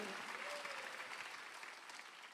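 A church congregation at a Sunday afternoon service claps together, a brief, full burst of applause that gradually thins out, with faint voices underneath.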